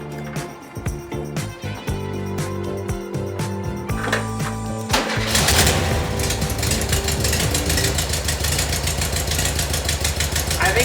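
A classic VW Beetle engine idling after its spark plugs were cleaned, now firing on all four cylinders, a steady loud rhythmic air-cooled chug that starts rougher and settles into an even idle, close by with no talk.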